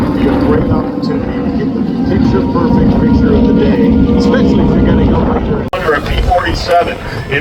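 A fixed-wing aircraft roars past at close range at the Wings over Houston airshow, a loud sustained engine rumble filling the whole stretch, with a crowd murmuring beneath it.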